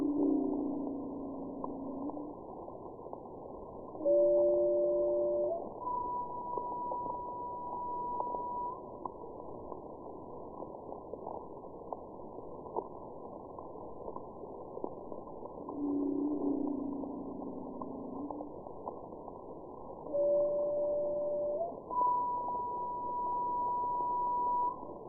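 Blue whale calls captured underwater on recorders: low, drawn-out tonal moans with steady pitches, arriving in two similar call sequences roughly fifteen seconds apart, alone and without talk.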